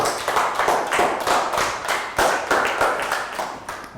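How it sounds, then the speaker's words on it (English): Children in a Year 3 classroom clap for a classmate, uneven close handclaps in loose bursts with some thumps and taps, fairly loud and without talk. "Big round of applause for Lakgau."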